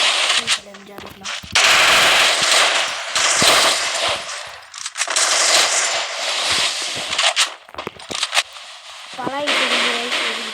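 AK-47 automatic fire in a video game crackles in rapid bursts, loud and close, broken by short pauses, with a player speaking over parts of it.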